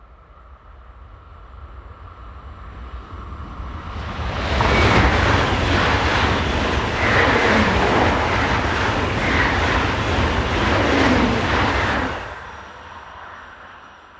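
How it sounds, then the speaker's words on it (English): A Class 403 train on a Basel to Dortmund service rushes past, swelling from a distant rumble into a loud, sustained roar with rhythmic wheel clatter before fading back. "(403-003) leads this formation, the 1113 Basel to Dortmund."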